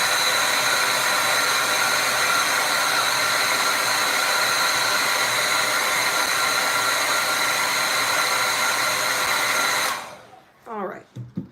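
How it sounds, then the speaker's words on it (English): A hair dryer blows steadily and loud at close range, drying acrylic paint on a canvas, before switching off near the end and leaving brief quiet handling sounds. "I'm gonna hit this with the hair dryer again really quick"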